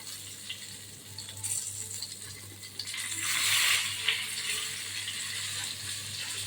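Stuffed bangda (mackerel) fish, filled with masala and turned to fry on its second side, sizzles steadily in a pan with a soft, continuous hiss that swells briefly midway. No one speaks over it.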